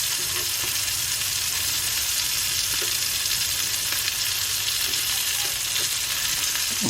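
Scallops frying in a hot pan, giving a steady close sizzle with a few faint clinks and stirring noises throughout, no talking.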